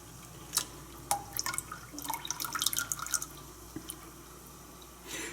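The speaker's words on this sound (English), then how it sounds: "Make sure to drain the water as much as possible" Water draining from blanched green vegetables in a kitchen, with scattered drips, trickles and wet squishes close by, small irregular splashes bunched together and then thinning out.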